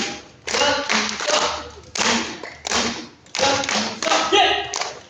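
A group claps hands in time during a Chinese folk-dance exercise session for seniors, sharp collective claps landing in a steady beat, with a few quieter taps in between.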